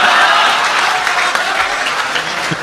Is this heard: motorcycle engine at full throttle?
no